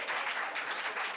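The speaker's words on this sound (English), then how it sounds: "Let's applaud that." Brief, faint applause from an audience at a live tech event panel session, a soft steady patter of clapping heard from a distance.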